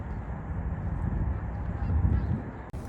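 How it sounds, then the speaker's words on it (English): Several geese honk outside an office door, a loud, close, overlapping chorus of nasal honks over steady outdoor background noise, with no talk. "There are 5 goose right in front of the office door and they're waiting there."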